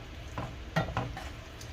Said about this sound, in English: we're just gonna simmer this a little bit